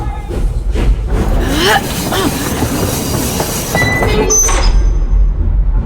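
A train in the video game Pistol Whip rumbles and clatters along with squealing wheels and a rising whistle-like tone near the end, loud and continuous, with faint voices mixed in.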